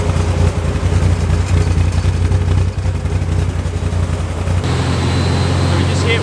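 Porsche 944 with a naturally aspirated engine running on a dyno on E85 fuel, giving a loud, steady, continuous drone that shifts to a different tone and level near the end.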